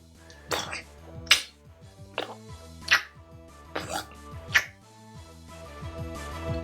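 A voice imitates wet, squishy shoes stepping down, making a series of short, wet clicking and smacking mouth noises roughly every second, close and fairly quiet.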